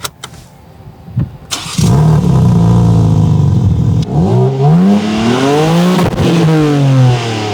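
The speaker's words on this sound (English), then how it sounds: "Now let's go drive this car on the road and see whether it feels right." A 2023 BMW M3 Touring Competition with the 3.0 straight-six and xDrive starts up on the road, then revs and accelerates hard through several rising gear pulls, loud and close, with a brief lift between them and no talking.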